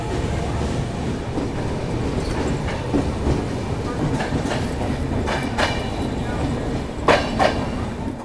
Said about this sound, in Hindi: 2 मिनट होल्ड के बाद निकल चुकी अपनी ट्रेन लास्ट स्टॉपेज यानी 15 मिनट डिले के साथ लहरियासराय रेलवे स्टेशन से।